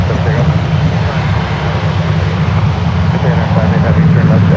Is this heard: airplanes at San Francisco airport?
yes